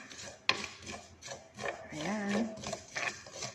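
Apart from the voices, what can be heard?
crushing food to mix into rice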